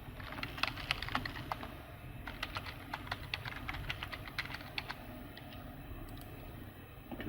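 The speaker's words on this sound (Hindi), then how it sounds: "यहाँ पर मेरे केबल ऑपरेटर ने मुझे यूज़र नेम पासवर्ड दिया हुआ है, वो मैं यहाँ पर आपको टाइप करके दिखा देता हूँ।" Quiet, irregular keystrokes on a computer keyboard as a username and password are typed in while setting up a TP-Link Wi-Fi router. The clicks come in short bursts over a low background hum.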